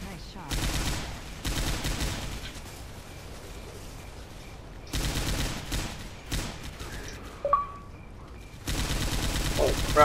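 Bursts of video game gunfire from Left 4 Dead, in sustained loud volleys separated by quieter gaps with a few sharp isolated pops, heard up close.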